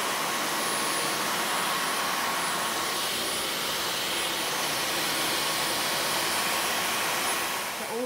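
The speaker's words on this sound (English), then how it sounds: "the Dyson V15 Detect Total Clean is an amazing vacuum cleaner" A Dyson V15 Detect Total Clean cordless vacuum cleaner runs with a constant loud, broadband whooshing whine and a thin high tone, heard alone and unchanging throughout.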